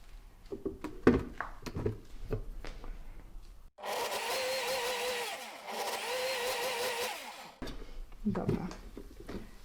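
A blender motor whirs loudly and steadily for a few seconds on a self-cleaning cycle with water and a drop of dish liquid, with talking before and after the run.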